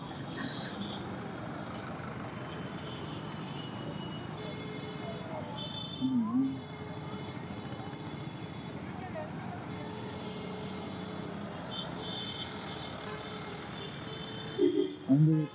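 Busy road traffic in Namakkal town with trucks and buses gives a continuous engine rumble, broken by a short horn blast midway and more horn bursts near the end, with voices underneath.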